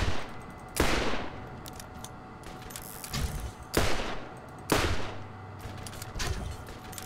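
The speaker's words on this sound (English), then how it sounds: "Can you stop shooting me?" Gunfire in the video game Borderlands, with several sharp, loud blasts spaced a second or two apart, each trailing off, between quieter bursts and mechanical game sounds.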